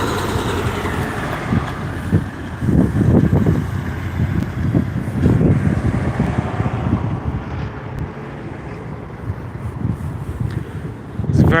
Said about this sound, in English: It's very windy here today